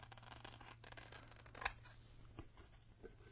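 A single crisp snip of scissors cutting through a rub-on transfer sheet for a spring Easter craft project, one sharp close cut near the middle with a couple of faint handling sounds after, over a low steady hum and no talk.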